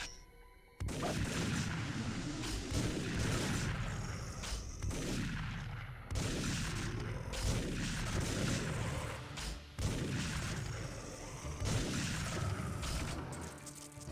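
Zombies fire shotguns in the TimeSplitters video game: loud, booming blasts repeat every couple of seconds over a dense, constant game backdrop.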